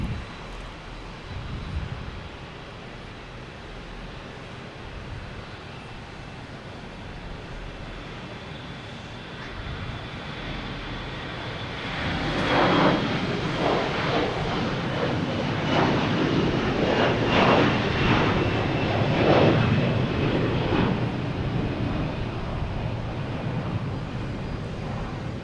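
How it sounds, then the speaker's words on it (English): A Delta Airbus A321 jet departing Boston Logan for Atlanta builds from a distant rumble into a loud, rough engine roar that swells and stays strong. "we got Delta heading to Atlanta and A321"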